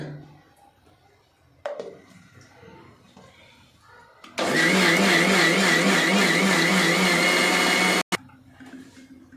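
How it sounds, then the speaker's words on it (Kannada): A kitchen mixer grinder blends soaked poha with curd and a little water, a loud steady whirring that runs for about four seconds and then stops abruptly, with quieter room sounds before and after. "ಮಿಕ್ಸಿಗೆ ಹಾಕೋತಾ ಇದ್ದೀವಿ."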